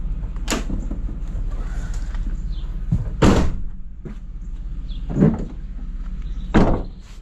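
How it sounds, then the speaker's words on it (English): A door bangs and thumps open in several heavy, separate knocks against a steady low rumble of running water. "Gotta open up this other door."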